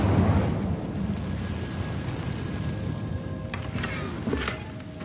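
Spell-casting blasts in Hogwarts Legacy boom and rumble one after another in a dense, continuous roar, with sharp crackling bursts near the end and no talk.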